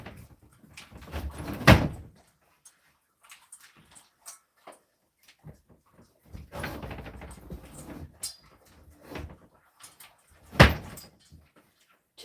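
A house door with a makeshift rag stuffed in the handle hole is opened and closed, giving several close, loud knocks and thuds spread across the clip, separated by quiet stretches with small scattered clicks.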